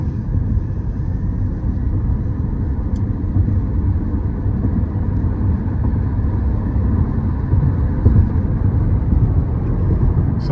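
A 2023 Toyota Prius Prime plug-in hybrid with over 220 horsepower accelerates, giving a loud, steady low drone of engine and road noise that holds evenly throughout, with no talking.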